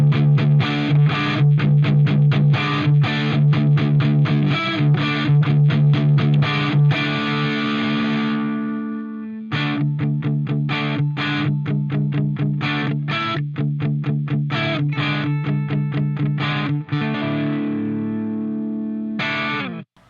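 Distorted electric guitar through a cabinet impulse response on a Line 6 Helix, no delay or reverb, playing chugging riffs and ringing chords, loud and dry, with a brief pause midway and no talking.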